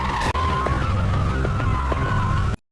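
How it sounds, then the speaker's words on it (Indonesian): A car speeding and skidding in a Korean drama chase scene: loud, close engine roar with a sustained tire squeal running throughout, one brief dropout early on, then an abrupt cut to silence at the end. "Jisoo pun mulai mengebut untuk memotong jalur"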